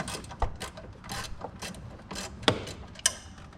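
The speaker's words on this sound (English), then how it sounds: "we're going to loosen the factory screws that hold the bracket on." A ratchet clicks in quick repeated bursts while loosening factory bracket screws on a 2021–2023 Ford Bronco, with a few sharper metallic clinks, close and fairly quiet.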